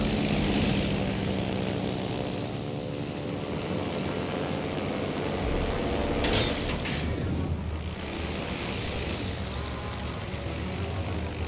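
Propeller aircraft droning in the World of Warships naval combat game, a steady engine hum that holds loud throughout with a brief swell midway, no talk over it.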